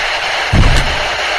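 A cannon-like bang on a played paranormal spirit-box recording: one low, booming thud over steady hiss, which swells and then fades out over about half a second.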